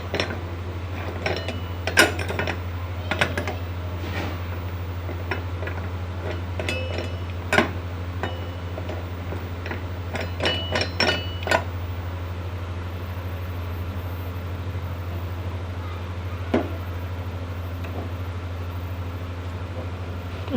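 A steel pressure cooker holding beef trotters is closed with a series of sharp metallic clanks and taps as the lid is fitted and the weight set on top, over a steady low hum, with no talking.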